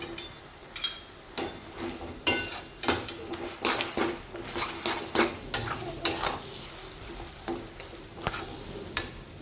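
Roasted eggplant bharit stirred in a sizzling pan, a spoon scraping and clinking against the metal in a steady series of strokes, close and fairly loud over a low fry.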